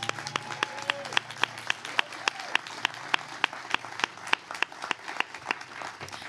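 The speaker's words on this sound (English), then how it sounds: "Let's give them a round of applause." At a press conference announcing a USL professional soccer team for the Antelope Valley, a small gathering gives sparse, distinct claps in a loose, fairly regular patter, quiet and thin rather than a full ovation.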